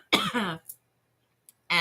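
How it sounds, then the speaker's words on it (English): A single harsh cough bursts out close by, followed by a short pause with a faint breath, then more sound starts abruptly at the end. "It's a spicy cough."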